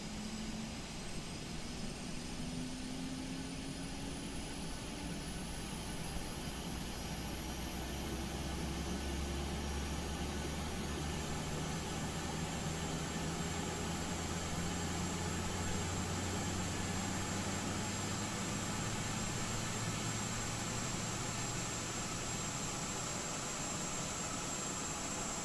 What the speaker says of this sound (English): the start of that APU is the best sounds this airplane has